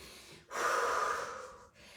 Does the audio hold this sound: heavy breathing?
yes